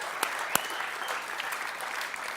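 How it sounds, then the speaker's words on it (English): Audience applause for a man's wife at a live talk, a brief burst of steady clapping from a seated crowd, moderately loud with a couple of sharper claps standing out. "Let's give her a round of applause"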